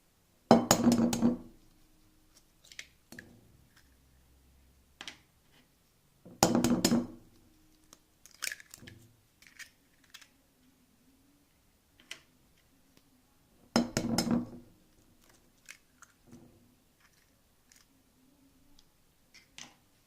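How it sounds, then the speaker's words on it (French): Three eggs cracked one by one against a bowl for a chocolate almond cake, three sharp cracks spaced several seconds apart, each followed by faint clinks and drips in a quiet kitchen. "Pour commencer, on casse les œufs afin de les battre avec le sucre."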